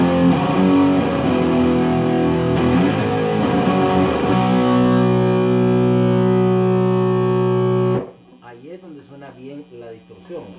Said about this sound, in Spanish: a la hora de usar un pedal de distorsión, como en el caso